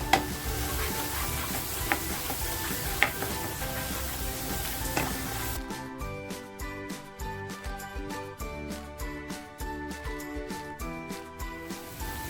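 Kashmiri chili powder, homemade masala and turmeric hit a hot pan for a paneer Hyderabadi gravy: a loud, steady sizzle comes first, then settles into quieter frying with a spoon scraping and clinking against the pan in a regular rhythm.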